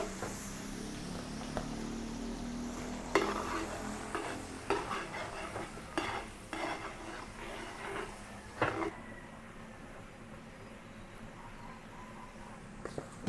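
Garlic sizzles in melted margarine in a large pan, a steady frying hiss that runs close and fairly loud, broken by stirring clatters and scrapes before it settles softer.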